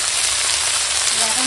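Chopped red amaranth greens hit hot oil in a frying pan, raising a loud, dense sizzle that holds steady across the whole moment, close up.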